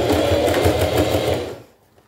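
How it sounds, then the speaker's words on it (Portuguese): Close, loud sewing machine topstitching a fabric toiletry bag, a fast even rattle of needle strokes that runs for about a second and a half, then stops abruptly into near silence. "E aí a gente faz o pesponto"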